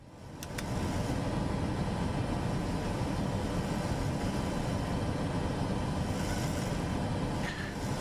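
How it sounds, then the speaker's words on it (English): A Boeing 737 in Microsoft Flight Simulator 2024 gives a steady, loud engine roar and hum that holds at one level throughout, with nothing else over it. "Yeah, the engine noise, you can hear it again."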